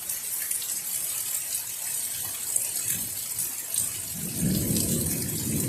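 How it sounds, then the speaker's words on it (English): Rain pours down outdoors during a thunderstorm as a steady, even hiss, and a low rumble swells near the end. "We got this rain. It started coming, thundering, lightning."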